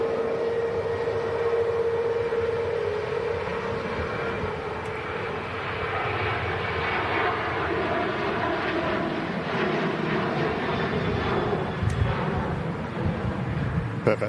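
Airliner departing in strong wind, a loud, steady jet engine roar with buffeting gusts that holds for the whole stretch, with no talk over it.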